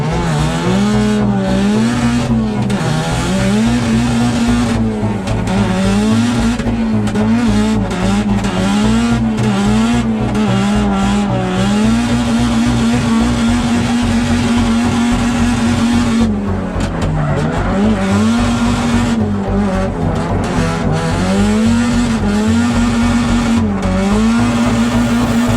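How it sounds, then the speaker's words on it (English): Drift car at British Drift Finals revving hard with rising and falling engine pitch, long tire squeals as it slides into a roundabout, loud and continuous across the whole run. "puts the back end of that car to the wall, throws on big angle as he heads down into the roundabout, jabbing the handbrake"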